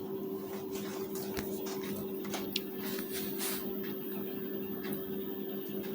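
A foot-pedal sewing machine stitches a blouse with lining, its motor giving a steady, even hum with faint ticking that runs unbroken throughout, close by and alone.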